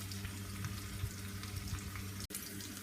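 A ground mixture of plantain flower, lentils, chili and fennel cooks on low heat in a pan, giving a steady, close sizzle throughout with one brief dropout near the end.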